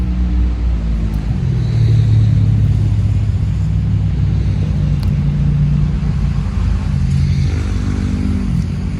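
ATVs driving past on a trip to the Grand Canyon North Rim, giving a steady, loud engine rumble that holds through the whole stretch with no break.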